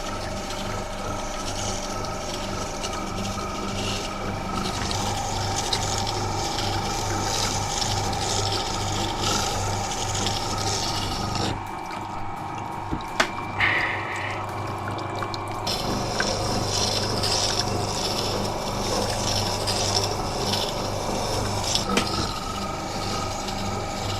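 A bench grinder grinds a chisel or plane blade in a woodworking shop, a steady whirring hum with scraping contact, briefly dropping off midway before resuming, moderately loud.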